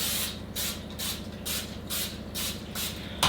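Repeated short bursts of cooking spray onto a grill grate, about seven hisses in a steady rhythm, close by with no talking.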